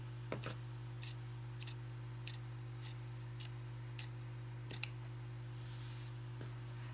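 Scissors cut through fabric in a series of separate crisp snips, some close together and some spaced apart, quiet against a steady low hum.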